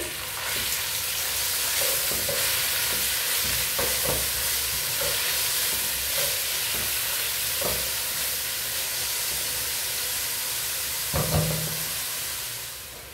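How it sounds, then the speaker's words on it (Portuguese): Onion sautéing in a pan for a cassava and dried beef broth makes a loud, continuous frying sizzle close by, with a few light clicks of stirring. "Agora a gente vai vir com a cebola. Vai deixar ela dar aquela murchadinha."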